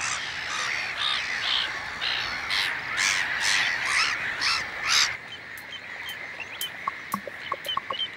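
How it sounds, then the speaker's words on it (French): A crowded colony of nesting avocets and black-headed gulls on the northern French coast makes a loud, continuous chorus of overlapping shrill calls and squawks. Sharper single cries stand out near the end. "la colonie des avocettes s'est installée juste en face de celle des mouettes rieuses. Ça fait du monde. Et ça fait du bruit."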